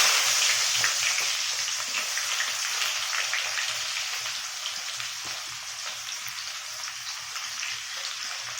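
Onion fries in hot oil in a pan for palak paneer, making a dense, steady crackling sizzle like rain on a surface, close and continuous, slowly easing in loudness.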